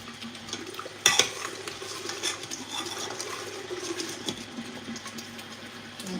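Jollof rice pepper sauce bubbling and spattering in a cooking pot on the stove, a continuous low sizzling churn with a sharp clatter near the start and scattered small pops throughout.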